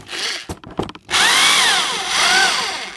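Interskol P-22E-620R impact drill whirring in hammer mode, a loud steady motor whine with rising and falling pitch after a few short starts, running alone.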